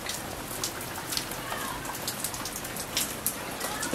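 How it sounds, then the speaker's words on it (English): Steady rain ahead of an approaching hurricane, a dense close hiss of drops pattering on surfaces with no pauses and no voices. "It started raining hella."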